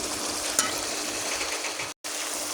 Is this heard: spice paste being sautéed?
yes